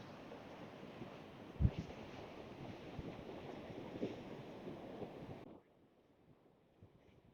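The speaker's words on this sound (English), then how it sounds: "Unrelenting power of the ocean." Ocean surf on the rural Irish coast rumbles steadily with wind buffeting the microphone, a couple of sharper crashes standing out before the sound drops away abruptly near the end.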